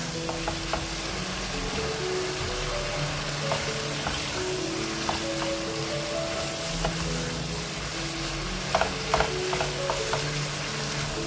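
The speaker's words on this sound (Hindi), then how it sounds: "अब हम इसको एक बार और से भूनेंगे हरा धनिया और हरी मिर्चों के साथ कीमे को।" Minced meat fries with green chillies and fresh coriander for aloo matar qeema, a continuous close sizzle broken by scraping stirs and a few sharp clinks near the end, with no talking.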